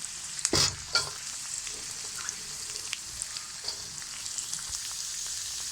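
Onion and carrot pieces fry in a hot pan, giving a continuous, moderate sizzle with a burst of clattering as the pieces drop in early on, then light stirring scrapes, and no talking.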